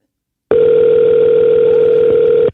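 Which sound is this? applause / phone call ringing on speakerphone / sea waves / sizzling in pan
phone call ringing on speakerphone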